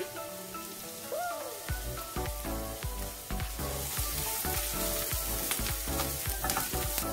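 Onions for spinach samosas frying over low heat are stirred in a pan: a dense, rain-like sizzle swells in after a quiet start, punctuated by repeated close scraping strokes of the spoon, with no speech.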